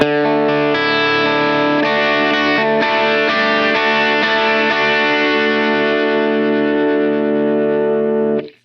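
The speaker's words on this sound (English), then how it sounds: "That's a telltale sign that the compressor is set very high and that it's breathing." An electric guitar runs through an aggressive Red Squeeze compressor on a Line 6 POD Go. A series of loud, sustained distorted notes swells and wobbles, with each tail ebbing and flowing before it cuts off. No voices.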